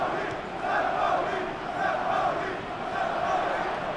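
Football stadium crowd at a 2. Bundesliga match between St. Pauli and Dynamo Dresden, a broad roaring crowd swelling and easing in waves, distant and steady with no clear claps.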